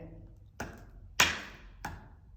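Three sharp taps on a staircase outside a dining room door, evenly spaced and fairly close, each a short broadband knock with a brief decay over a quiet background.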